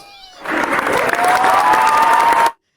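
A burst of crowd applause with cheering on a podcast-style show, starting abruptly and holding steady at full volume before cutting off sharply, a whistle-like tone running through it.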